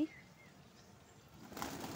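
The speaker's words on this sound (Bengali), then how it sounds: "জালালি কবুতরগুলি" Jalali pigeons coo softly nearby, and a brief flurry of flapping wings rises toward the end of the short, fairly quiet stretch.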